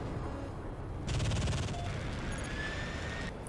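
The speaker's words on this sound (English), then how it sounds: "But you can see the cannons are pretty devastating." A JF-17 Thunder aircraft firing its cannons in a flight video game, a rapid, continuous burst lasting around two seconds over steady engine roar.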